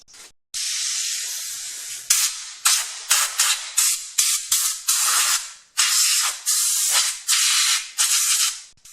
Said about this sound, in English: I used some compressed air and blew all the brake dust out